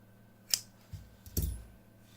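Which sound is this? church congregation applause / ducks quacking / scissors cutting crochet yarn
scissors cutting crochet yarn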